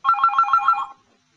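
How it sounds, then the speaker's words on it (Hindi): A telephone rings in a quick burst of rapid electronic trills, loud and close, then cuts off abruptly into silence. "प्लीज देखो ना किसका फोन है।"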